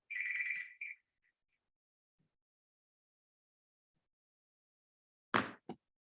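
A mobile phone ringtone sounds during a virtual fire-safety training session: a short, loud melodic burst right at the start, then quiet, with two brief knocks near the end.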